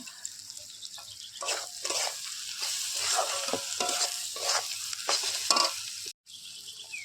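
Spices such as garlic paste, coriander, cumin, salt and turmeric are stir-fried in a pan outdoors on a rooftop, giving a steady sizzle with repeated scraping stirs, close and continuous, with no talking.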